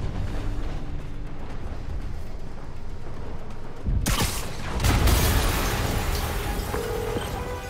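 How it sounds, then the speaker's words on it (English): Explosion in the video game Marvel's Spider-Man: a rumbling game ambience cut by a sudden loud blast with a deep, rolling boom that trails into debris and mechanical noise, with no speech. "an explosion just..."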